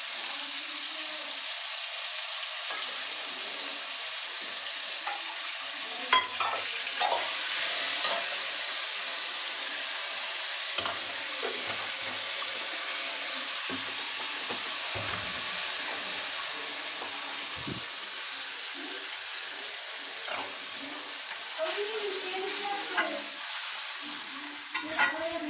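A spice paste of ginger, cumin, coriander, chilli and tomato fries in a pan with a steady, close sizzle, broken by intermittent scrapes and knocks of stirring, with no voices.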